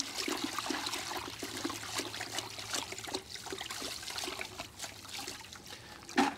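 Water being stirred and sloshed in a bucket while mixing a cleaning solution of 16 teaspoons of cleaner in 2 gallons of RO water, for end-of-season cleaning of a maple syrup reverse-osmosis unit; steady close trickling and splashing throughout.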